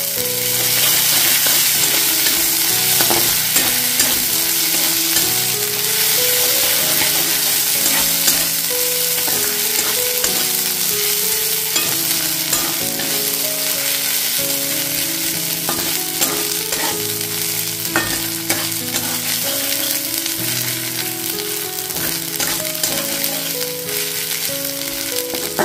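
Sliced onion fries in a pan with sugar, ginger paste and Kashmiri red chili powder, a steady close sizzle with stirring scrapes throughout, under continuous background music.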